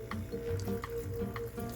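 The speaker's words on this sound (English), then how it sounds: "Just pour that water in there." Water pours into a rock tumbler barrel for a soapy wash cycle, a steady close filling and trickling sound with small splashes, heard alone.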